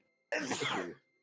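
A single short sneeze bursts out close to the microphone, loud and sharp for under a second against near silence.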